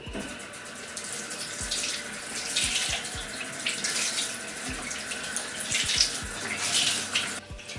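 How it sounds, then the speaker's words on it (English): Water runs steadily from a tap onto a Makeup Eraser cloth, making a continuous hiss and splash at close range with small shifts in the flow and no talking. "All you do is add water to it."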